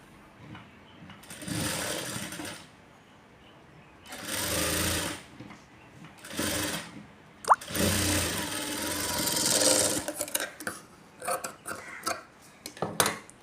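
A sewing machine stitches along the lining of a blouse in several bursts of rapid whirring and clatter, separated by short pauses and handling noises.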